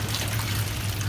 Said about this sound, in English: That's the reason I'm letting this water run.